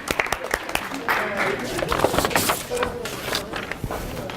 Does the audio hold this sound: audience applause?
yes